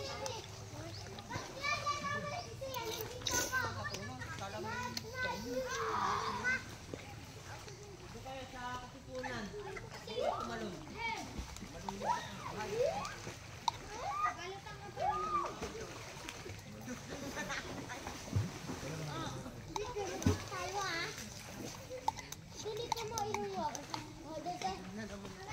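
People bathe and splash in water in a forest, with lively children's shouts and chatter over scattered splashes and a running-water background throughout.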